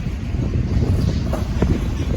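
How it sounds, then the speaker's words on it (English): Strong winter wind buffets the microphone outdoors near a railway junction, a rough, continuous low rumble with gusty surges throughout. "Wow, it is windy."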